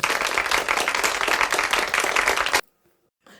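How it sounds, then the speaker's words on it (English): Audience applause during a live show, a dense, energetic wash of many hands clapping for about two and a half seconds before cutting off abruptly into near silence, with a faint voice at the very end. "Round of applause."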